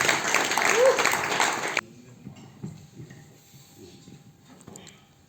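Audience applause welcoming a speaker at a motivational seminar, a dense burst of clapping filling the first two seconds before cutting off sharply, leaving a quieter room with faint murmurs.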